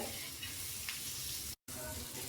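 Small pieces of garlic and ginger fry in a pan, giving a quiet, steady sizzle with faint stirring, broken by a brief silent gap.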